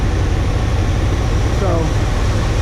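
A 318 V8 in a first-generation Dodge D150 pickup idles steadily after a carburetor install, a continuous low rumble close by with a brief voice passing over it.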